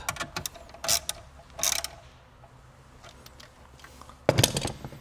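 A ratchet tightens bolts back up inside a Honda while an amplifier is fitted, with a few short bursts of close mechanical clicking separated by quiet pauses.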